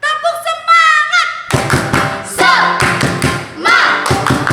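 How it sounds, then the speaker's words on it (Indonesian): Children clap out a rhythmic chant at a Sunday school service, sharp bursts of hand claps and thumps in a patterned beat, loud and close, with voices calling along through the rhythm. "Tepuk semangat"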